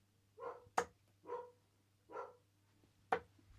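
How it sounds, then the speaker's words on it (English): A dog barks five times, close and fairly loud. The barks come in an uneven rhythm, some rounder and some sharp and clipped, over a faint steady hum in a quiet room. "dog's going mental."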